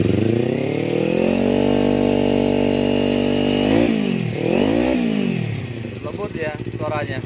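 A KRT motorcycle fitted with a Yoshimura slip-on exhaust idles loudly and evenly, then is blipped through several quick revs that rise and fall, ending in a rougher, pulsing idle.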